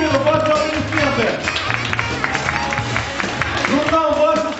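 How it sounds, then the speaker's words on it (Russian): Audience applause at a graduation ceremony for a bride academy, sustained clapping from a crowd mixed with loud voices and hubbub throughout. "Организаторы проекта, пожалуйста, под ваши бурные аплодисменты"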